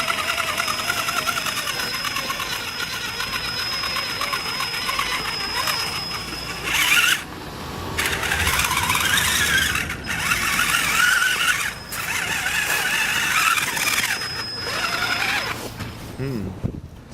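A Traxxas Summit RC truck crawling through snow with a weak steering servo, its electric motor and gears whining in a steady, loud mechanical buzz that cuts out briefly a few times and rises again, with servo chatter close up.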